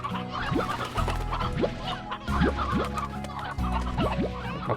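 Chickens in the video game Slime Rancher cluck repeatedly in short rising bursts over a steady low hum and background music, fairly loud and close.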